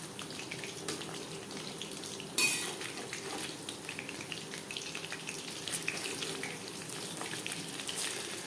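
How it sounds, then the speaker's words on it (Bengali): Chicken pakora pieces sizzle quietly in hot oil over a medium flame, a steady soft crackle broken once by a sharp clink of a utensil against the pan. "একটা সাইড ভাজা হয়ে গেলে অপর সাইডটা উল্টে দেবো।"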